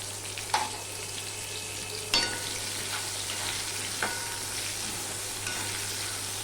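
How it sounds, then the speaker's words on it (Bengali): A spoon stirs sour lentil dal with mango in a pot, with a soft steady simmer and a few sharp scraping knocks against the pot, quiet and with no talking. "ডাল তো সিদ্ধই হয়ে গেছে আমটা আমি একটুখানি করে নেড়ে চেড়ে নেবো"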